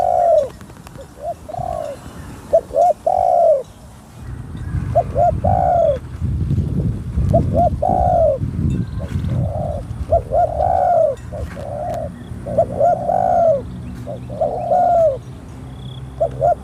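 A contest zebra dove in Thailand gives bursts of rolling, bubbling coos in regular sequences, near and clear, while low rumbling crowd noise swells underneath from midway on.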